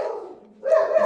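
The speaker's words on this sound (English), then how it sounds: "Sorry, that was my dog." A pet dog barks repeatedly at close range in a home after the doorbell rings, a string of loud, sharp barks that drop briefly before a louder burst.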